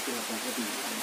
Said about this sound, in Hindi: ये देखिए बहुत बारिश हो चुका है और दूर से कुछ भी नहीं दिखाई दे रहा है